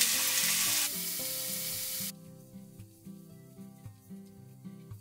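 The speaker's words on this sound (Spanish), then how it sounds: "voy a agregar un chorro generoso de aceite de oliva y comenzaremos sofriendo la cebolla junto con el ajo" Onion and garlic sautéing in a generous splash of olive oil, a bright sizzle that fades after the first two seconds while steady background music continues.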